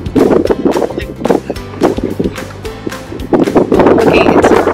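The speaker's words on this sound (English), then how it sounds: "It's so breezy as well." Breezy outdoor wind buffets the microphone in loud, uneven gusts and rumbles that swell and fade repeatedly, with a faint voice briefly underneath.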